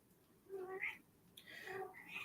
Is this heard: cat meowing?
yes